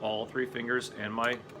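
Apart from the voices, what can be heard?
No distinct noise like a dog, phone or traffic.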